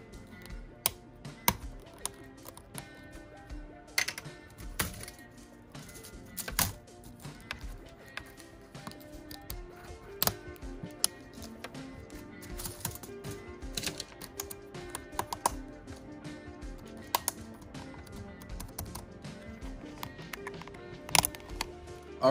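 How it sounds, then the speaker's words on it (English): MacBook keycaps are pressed and clicked back onto the keyboard, giving sharp, scattered plastic clicks in irregular clusters, some louder than others. They are close but fairly quiet, over a soft background. "just take your M key, drop it down, click all four sides in, and you're good to go"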